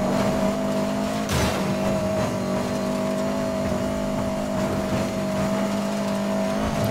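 Turbocharged car engine in the video game Need For Speed Most Wanted (2012), a steady loud drone with a sustained whistling whine on an off-road track, holding constant with a brief surge near the start.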